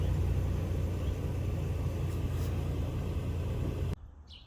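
A 2023 Toyota Tacoma TRD Off Road engine idles with a steady, close low rumble that cuts off abruptly near the end.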